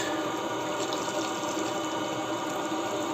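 Steady, continuous rush of a stream of hot water from a Webasto Thermo Top heater, close and fairly loud, with no pauses or other sounds over it.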